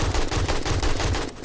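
AK rifle bursts in the video game 7 Days to Die, a rapid run of close, loud automatic shots that rattle out evenly for about a second and a half.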